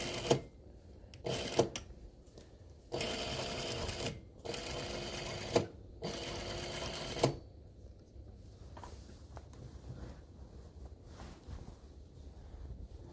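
A sewing machine stitches premade binding onto a quilt in several short bursts of rapid mechanical whirring, separated by pauses with faint handling noise, close and fairly quiet.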